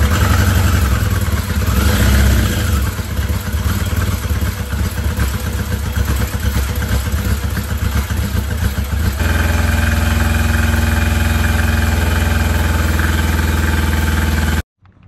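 A 1982 Yamaha Maxim 650 motorcycle engine runs loud and close, first with a rough, clattery beat, then settling into a steady high idle before cutting off abruptly at the end.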